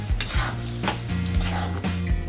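Spiced masala egg chutney is stir-fried in a pan, with a spatula scraping and clanking against the metal in quick, uneven strokes over a steady sizzle.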